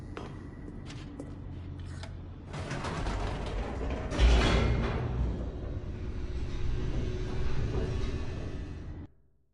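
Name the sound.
elevator mechanism moving downward, from the video game The Stanley Parable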